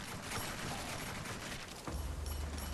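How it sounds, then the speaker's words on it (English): Aerial gunship in an action roguelite video game strafing a line of enemies: a dense, crackling barrage of rapid fire, with a deep rumbling boom kicking in near the end. "Call in an aerial gunship support to strafe a line of enemies."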